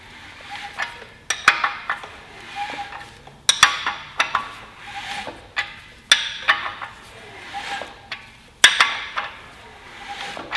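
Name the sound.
wrench turning over a Honda K-series engine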